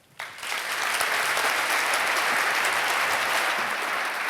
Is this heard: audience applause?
yes